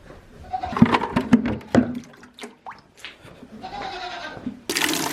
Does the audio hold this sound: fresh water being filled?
yes